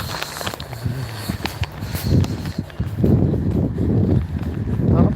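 Footsteps walk steadily outdoors in a cold wind, a run of close, fairly loud crunching steps that grows denser in the second half over faint background noise.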